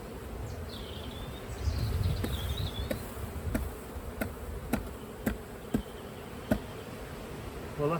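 Honey bees buzz around a beehive in steady, close swarming drone, with a few sharp ticks and knocks breaking through near the end, no voices.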